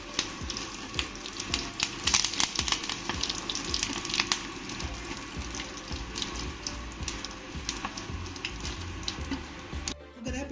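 Dried chillies, shallots and curry leaves crackle and sizzle in hot oil for a pumpkin pachadi, a dense continuous spatter with scattered pops, loud and close throughout.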